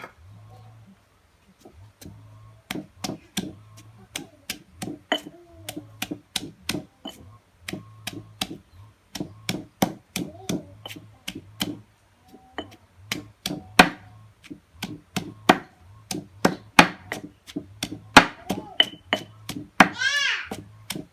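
Rapid knife chopping of shallots on a board, irregular bursts of sharp close taps with brief pauses, continuing steadily for a long stretch.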